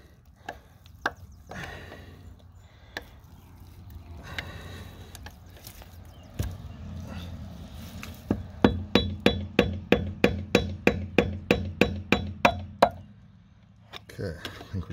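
A hammer strikes a bolt extractor sleeve seated on a car's wheel lock nut, first in scattered taps, then in a fast, even run of about twenty loud metallic blows close by, with some talk at times.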